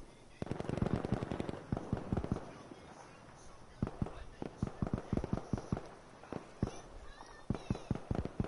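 Rapid bursts of shotgun fire in a competitive online shooter league match, sharp repeated blasts in clusters with brief pauses, with voices heard faintly between shots.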